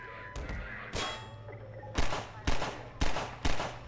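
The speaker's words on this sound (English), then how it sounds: "Shooting behind cover." Gunfire in the Half-Life 2 VR mod: sharp, separate shots crack out, a few scattered early on, then a steady run of four evenly spaced blasts, with faint background sound between them.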